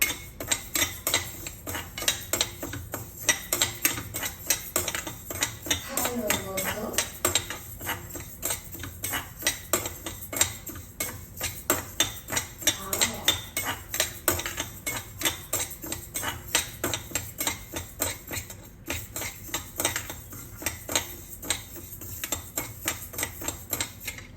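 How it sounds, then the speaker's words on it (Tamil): Black urad dal being dry-roasted in a pan, a continuous rapid rattle and scrape of dry lentils stirred against metal, close and steady with no talking. "நான் கருப்பு உளுந்தை வந்து வறுக்க போகிறேன்"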